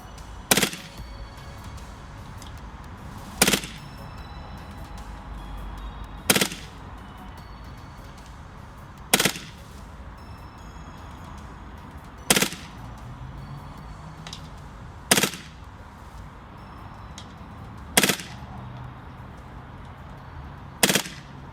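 An Umarex/SFC HK MP7A1 airsoft gas blowback gun firing eight short sharp bursts at steady intervals about three seconds apart, crisp and close over a low background hum.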